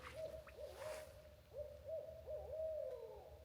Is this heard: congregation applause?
no